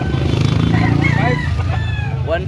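A rooster at a poultry market in Carbon, Cebu City, giving a close, loud crow with some clucking. Market noise runs beneath it.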